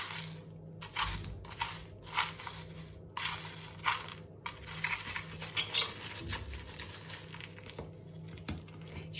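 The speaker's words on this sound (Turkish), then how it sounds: "Bolca pomza taşı döküyorum tabanına." Pumice stones poured generously into the base of a flower pot while repotting violets, making a series of close, dry, gritty rattling and crunching bursts with short pauses between pours.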